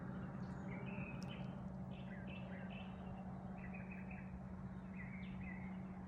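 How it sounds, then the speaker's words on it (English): Faint bird chirps at a lakeside campsite, a few short scattered calls over a quiet low background hum. "Birds in the background."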